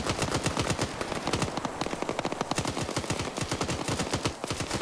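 Rapid automatic gunfire in a Metal Gear Solid video game, dense rhythmic bursts of shots firing continuously at close range without any pause.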